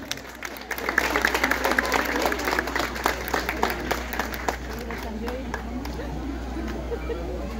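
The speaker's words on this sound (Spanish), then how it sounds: "fuerte el aplauso, por favor." Strong applause from a crowd at a queen coronation during patronal festivities in Urbanización El Balsamar, Sonso, with continuous dense clapping and a few louder claps standing out, steady and fairly close over several seconds.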